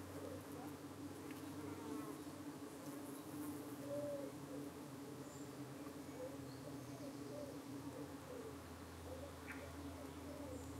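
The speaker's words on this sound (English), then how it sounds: "Bees have been flying well." Honey bees fly and hum outdoors near a hive entrance under trees on a hot June evening. The buzzing is a faint, continuous drone, with occasional birdsong in the background.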